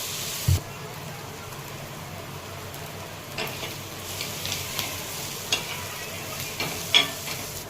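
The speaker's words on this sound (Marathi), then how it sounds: "आता कांदा टाकून घेतो तर कांदा आपल्याला छान परतून घ्यायचा आहे" Onion fries in oil with mustard seeds, cumin and garlic for tomato chutney, a soft continuous sizzle with scattered stirring clinks and scrapes, fairly quiet and close, with no speech.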